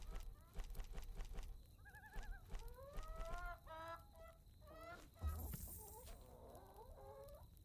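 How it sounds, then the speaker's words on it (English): Chickens in the video game We Harvest Shadows cluck and chatter in repeated bursts, joined by whinny-like farm animal calls over a constant low hum, with a voice speaking faintly partway through. "Oh, come on, chicken. Chicken! I need those eggs."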